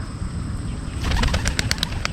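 Pigeons released by hand in the open, a burst of wing flaps rising after about a second, with a rapid series of fluttering beats and brief calls over steady low background rumble.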